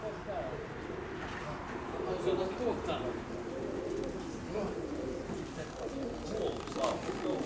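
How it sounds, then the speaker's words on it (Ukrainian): Pigeons cooing softly in a loft where eggs are being checked, a steady low murmur of coos that runs through the whole stretch, with people talking nearby. "Голубенята вже є там, Андрійович?"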